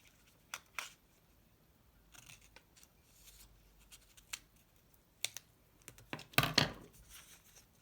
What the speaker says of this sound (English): I'm just going to give it a little quick little cut over here